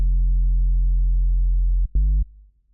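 A Sylenth1 software synth patch with a low filter cutoff, raised resonance and drive, droning as a steady, bass-heavy sustained tone that cuts off abruptly, then returns for a brief stab before fading out.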